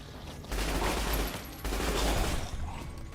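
Gunfire in the video game Fallout: New Vegas, a loud, dense sustained barrage in two bursts with a short gap between them.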